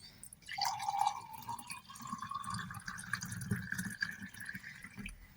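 Chilled thandai, a milky Holi drink, poured into glasses: a continuous close liquid stream with a rising fill tone lasting several seconds, over faint background clatter.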